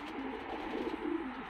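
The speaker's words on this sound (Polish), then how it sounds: "Takie te gołąbki są, ponieważ są to gołębie przestronne." Soft, low cooing of long-distance racing pigeons murmurs steadily, a gentle continuous burble with no other sounds.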